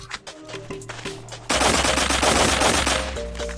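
Rapid automatic gunfire in the online shooter Blockpost, a dense burst of loud shots that swells into a sustained roar of overlapping fire, with sharp hit-marker clicks.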